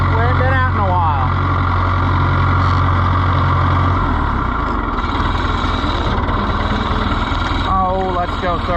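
An Oliver 1365 tractor engine runs steadily and loud throughout, a continuous low rumble with a speech-like harmonic voice near the start and end.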